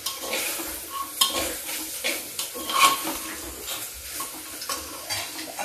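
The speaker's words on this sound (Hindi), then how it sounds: "इसको मिक्स कर देते हैं इसमें।" Urad dal with turmeric and salt being stirred in a pot, a busy scraping and clinking of a spoon against metal with faint sizzling underneath, steady and close, with no voices.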